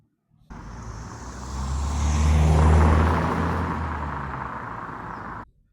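BMW 2-Series car driving, a low engine and road rumble that fades in, swells to a peak as it passes close, then holds steady before cutting off.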